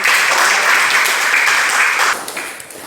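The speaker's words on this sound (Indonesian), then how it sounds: "Tepuk tangan dulu kepada teman-teman." Students in a high school Indonesian class applaud their classmates, a loud, brisk round of clapping that runs steadily for about two seconds before thinning into a few scattered claps.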